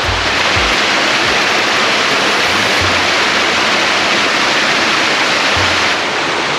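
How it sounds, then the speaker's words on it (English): A snowmelt- and glacier-fed river rushes loudly and steadily, a constant roar of churning water with no pauses. "rushing river. Could be swept away at any moment if this thing flash floods on me."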